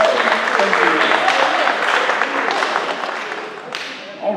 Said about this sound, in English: give a big, huge round of applause for all the sponsors